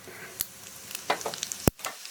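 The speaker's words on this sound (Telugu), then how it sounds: "ఈ జీలకర్ర బాగా చిటపట అన్నది." Cumin seeds spluttering in a spoonful of hot ghee for tempering, a few sharp crackling pops over a faint sizzle, one louder pop near the end.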